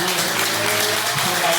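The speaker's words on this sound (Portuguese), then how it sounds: "Vamos dar uma salva de palmas para Jesus." Church congregation clapping in praise during a worship service, a dense, continuous wash of hands over a low sustained tone, likely organ or music, for under two seconds.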